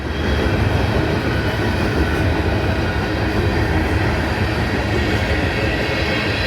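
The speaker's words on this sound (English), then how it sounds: "It's a southbound train" A lightly loaded train with a fresh crew heads out of Greenwood toward Atlanta. It gives a dense, steady rolling rumble with faint clickety-clack throughout and no break.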